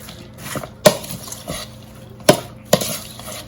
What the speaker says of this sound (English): So all I'm going to do is mix this up.